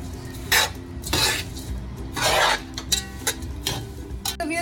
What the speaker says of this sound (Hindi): अब हम इन ड्राई फ्रूट को देसी घी में पकाएंगे थोड़ी देर के लिए हम इसको पकाएंगे